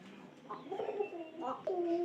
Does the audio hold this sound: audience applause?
no